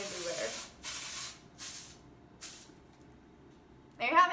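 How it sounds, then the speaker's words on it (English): Fat Boy dry texturizing hair spray hisses from an aerosol can in three short close bursts, each about half a second, separated by brief pauses, with a voice starting up right after. "Fat Boy, my favorite dry texturizing spray"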